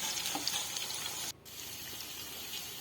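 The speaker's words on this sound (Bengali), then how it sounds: "একদিকটা ভালোভাবে ভাজা হয়ে গেছে, এদিকে ভালোভাবে উল্টে পাল্টে ভেজে নেব।" Chicken and vegetable pakoras sizzle in hot oil in a pan, a steady bright crackling hiss with a brief drop midway, close and continuous with no talking.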